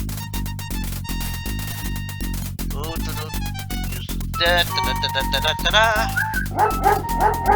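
A dog in the King's Quest 5 adventure game yips and whimpers in quick bursts over a pulsing game music loop, growing louder toward the end.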